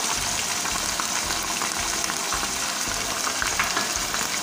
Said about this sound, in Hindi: इसके साथ हम इसको फ्राई करेंगे अच्छी तरह